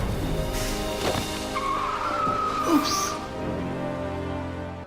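A car in a film skids with a high, sustained tire squeal just before a traffic accident, set amid a mix of engine and street noise with a brief voice heard over it.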